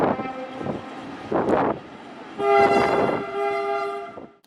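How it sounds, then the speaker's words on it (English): A passing train bound for Porto sounds its horn in a series of loud, sustained tonal blasts, two shorter bursts followed by a longer one, carrying over open riverside air near the tracks. "here we can see one of the trains going to Porto, and also the train was greeting us"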